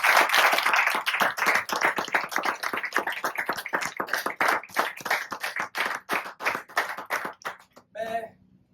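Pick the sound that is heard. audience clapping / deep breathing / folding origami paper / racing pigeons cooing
audience clapping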